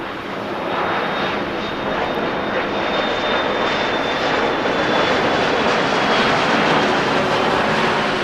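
A jet airliner powers up for takeoff on runway 6 Right at LAX, a loud, steady roar of engines with a thin high whine above it, holding strong and unbroken throughout with no talk.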